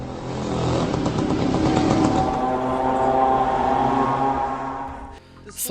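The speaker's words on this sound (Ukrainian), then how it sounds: "гуде не мопед, а чотирициліндровий двигун з охолодженням повітря" A Shahed-136 drone's four-cylinder air-cooled engine gives a steady, droning hum with a buzzing harmonic tone for about five seconds, then dips briefly before rising again.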